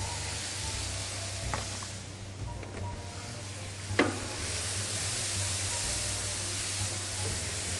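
Onion, bay leaf and garlic sizzling in oil for a lentil dish, a soft continuous hiss of frying with a couple of brief clicks and a light stir partway through, moderately quiet.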